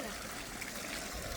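Water trickles steadily beside a fish pond, a faint, continuous wash of soft running water with no distinct drops standing out.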